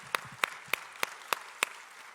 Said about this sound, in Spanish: Denle otro fuerte aplauso al Señor en esta hora.